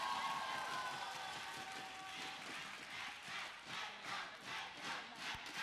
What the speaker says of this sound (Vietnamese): Một lần nữa vỗ tay cho